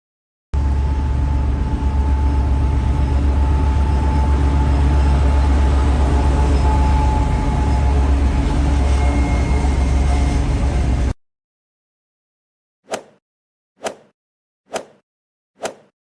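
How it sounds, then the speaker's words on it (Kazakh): A cartoon green train rumbles steadily for about ten seconds with a faint whistle-like tone, then stops, followed by four short evenly spaced clacks. "Бұл жасыл пойыз."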